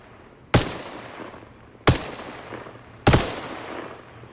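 Three loud, separate gunshots ring out in the video game Arma Reforger, spaced about a second and a quarter apart, each a sharp crack followed by a decaying echo tail.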